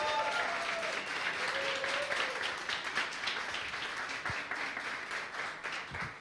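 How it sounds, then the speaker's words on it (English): An audience at a startup demo day event gives a sustained round of applause, dense steady clapping that fills the room and tapers slightly toward the end, with a voice faintly underneath. "Another round of applause, please."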